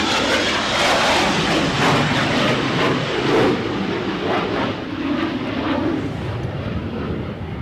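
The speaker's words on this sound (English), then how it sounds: "I'm going to let you enjoy this takeoff" A fixed-wing airliner takes off at Edinburgh Airport in 40 mph winds, its engines a loud, continuous, broadband roar that holds steady throughout with wind buffeting mixed in, no voices.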